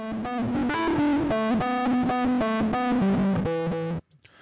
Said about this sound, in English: it's a very extreme distortion